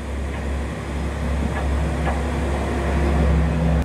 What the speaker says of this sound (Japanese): 普通列車が出発です。